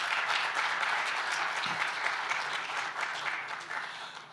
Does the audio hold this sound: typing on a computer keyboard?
no